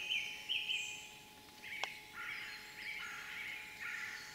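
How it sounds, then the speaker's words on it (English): Birds sing and chirp in woodland trees during a quiet wait on a squirrel hill, with brief high calls and twittering phrases recurring fairly faintly over a low steady background hiss, with no talking. "I just sit there and listen to the birds singing and squawking away up in the trees."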